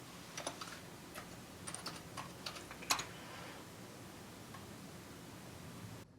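Keys clatter on a computer keyboard as a Docker command is typed, an irregular run of quiet, crisp taps clustered in bursts over the first three seconds, then fading into faint room hiss.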